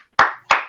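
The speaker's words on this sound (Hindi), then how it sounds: "अरे ताली यार, ताली तो बजानी जरूर।" Two sharp, close hand claps roughly a third of a second apart from students in a class, each with a short decaying tail.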